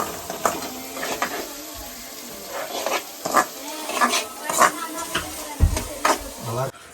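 Onions and chicken curry masala sautéing in a pan during an outdoor cook with friends, a soft sizzle under repeated spoon scrapes and metal clatter while someone talks.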